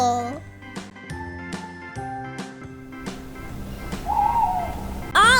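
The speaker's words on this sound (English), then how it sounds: "O for owl" A cartoonish owl hoots over bright musical backing in a children's alphabet song, with a short rising hoot near the end after plucky, bouncy notes.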